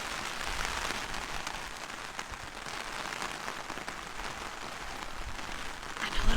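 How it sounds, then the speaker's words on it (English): Rain pours steadily on a windy farm, a dense hiss of drops on surfaces filling the whole time, loud and close with no voices. "It's raining."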